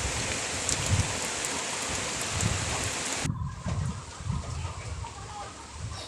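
Steady morning rain falls in a continuous, even hiss that fills the background, with a sudden drop in brightness partway through and no voices.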